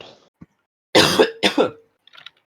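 Two rough, close coughs in quick succession, preceded by a faint throat sound and followed by a soft trailing rasp.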